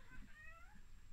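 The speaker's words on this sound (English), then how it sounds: "My very vocal cat." A very vocal cat gives a single drawn-out, wavering meow, fairly soft and close in a quiet room.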